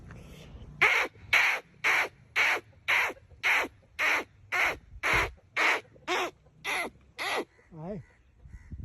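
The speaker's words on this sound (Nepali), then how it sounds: "अब म चाहिँ काग बोलाएर तपाईँहरूलाई देखाइदिन्छु है" A dozen loud, harsh crow caws in a steady rhythm, about two per second, then a wavering call at the end.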